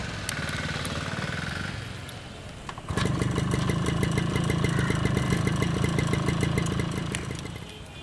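A repaired vehicle's engine idles at first, then kicks up around the third second into a louder, steady run of rapid, even firing pulses that continues close by before easing slightly at the end.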